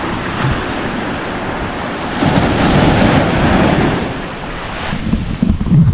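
Heavy waves crash and churn close by, a thick continuous roar that swells midway and again toward the end, with wind rumbling across the microphone throughout and no voices.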